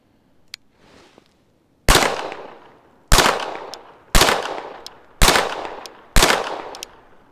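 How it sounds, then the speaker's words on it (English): Springfield Armory Ronin 4.25-inch pistol fired at a target 15 yards away outdoors: five loud, sharp shots about one second apart, each ringing briefly, after a faint quiet lead-in. "came up and fired 5 shots in a row into the body of the target"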